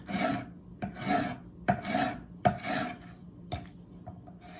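A knife makes long slicing strokes through beef and vegetables for a keto bowl, five or six soft rasping strokes in a steady rhythm, close and fairly quiet.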